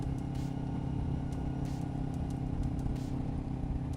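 A motorcycle engine running after a downshift holds a steady, droning hum mixed with wind rush, with no talking.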